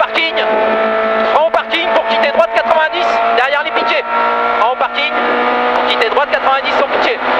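A Renault Clio Ragnotti rally car on a special stage of the 2014 Rallye Suisse Normande pulls a handbrake turn. The engine loudly revs and drops in sharp pitch swings while a co-driver's voice calls notes over it.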